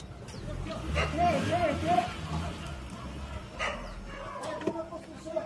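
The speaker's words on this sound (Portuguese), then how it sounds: "Não deixa o cachorro chegar ali não, Gil." A dog barks a few times at close range in a rural Brazilian setting, short sharp yaps mixed with people talking and calling out nearby, plus some background bustle.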